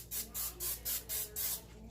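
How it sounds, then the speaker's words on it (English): Olive oil cooking spray goes onto stuffed chicken breasts in six quick, evenly spaced hissing bursts, close and fairly soft, with brief gaps of quiet between them. "I'm going to be spraying it with some olive oil spray"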